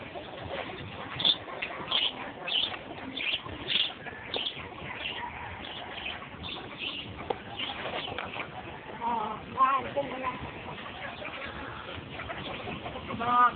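Chickens cluck and coo steadily throughout, a busy poultry chorus with overlapping calls, fairly close, with faint voices mixed in.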